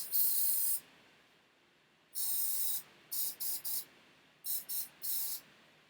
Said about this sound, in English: I'm going to spray it on the inside of the shoe